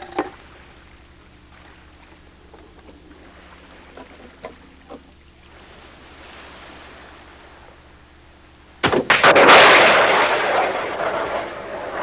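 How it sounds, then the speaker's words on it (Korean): A Joseon-era Hyeonja cannon from a turtle ship is test-fired off the sea coast of Ulsan: after a quiet stretch, one sudden loud blast is followed by a long roaring, rushing rumble that slowly fades. "저는 지금 그 당시 거북선에 장착돼 있던 장착포였던 현자포의 발사 실험을 하고 있는 울산 앞바다에 와 있습니다"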